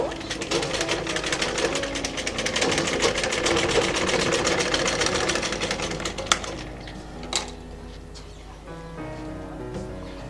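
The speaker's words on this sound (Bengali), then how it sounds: "এখানেও ডাবল করে সেলাই দিয়ে দিব" Sewing machine stitching elastic onto a cloth face mask, a fast steady whirring run for several seconds that stops, followed by quieter handling clicks and rustling of fabric.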